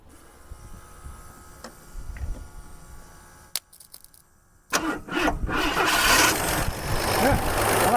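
A 1976 AMC Pacer, sitting unused for twenty years, cranks in a few short bursts, then catches and settles into a loud, rough running engine close by, after a quieter stretch with faint background noise.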